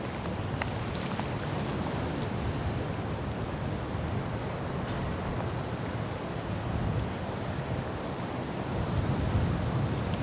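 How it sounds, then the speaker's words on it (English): Strong wind buffets the microphone outdoors by reeds at a ladies' golf tournament, a constant broad roar with gusty swells and no pauses or talking. "just how windy it's starting to get out there"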